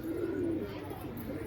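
Pigeons cooing in soft, low, rolling phrases during a pigeon-flying tournament, a steady murmur that stays fairly quiet and continuous throughout, with no voices.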